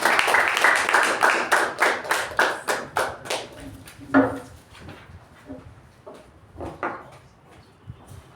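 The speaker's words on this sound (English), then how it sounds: "Please put your hands together to welcome Toastmaster Mamatha with a huge round of applause" Round of applause from a Toastmasters meeting audience welcoming a speaker, dense clapping for about four seconds that thins into scattered, fading claps.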